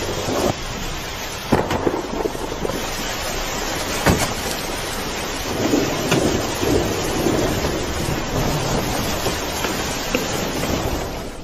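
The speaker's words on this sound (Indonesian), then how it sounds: "Dan hujan pun turun" Steady rain pours through a film scene with rumbles of thunder, a continuous wash of falling water with occasional louder bursts, no voices heard.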